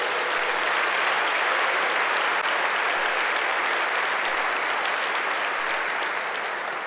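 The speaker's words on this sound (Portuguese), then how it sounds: "por favor, dê um aplauso." A church congregation at a Sunday service bursts into sustained applause, dense steady clapping from many hands filling the room evenly for several seconds without a break.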